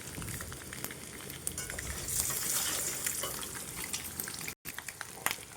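Eggs frying until well browned in a pan beside cooking rice make a dense, close sizzle and crackle with scattered sharp pops, broken by a brief silent gap near the end.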